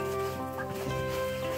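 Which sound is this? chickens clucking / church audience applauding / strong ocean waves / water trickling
chickens clucking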